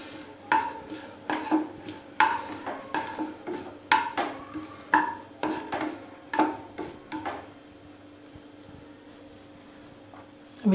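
A spoon scrapes and taps a pan in a steady rhythm while chopped cashews and almonds fry softly in ghee over a low flame. The stirring stops near the end and a faint sizzle carries on.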